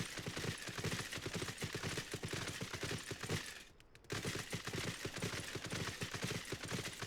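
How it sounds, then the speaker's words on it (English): Metal-armored horse hooves clatter in a video game, a fast steady clip-clop of sharp metallic strikes that drops out for a moment before resuming at the same rhythm. "This is a different horse, but it also sounds very metallic."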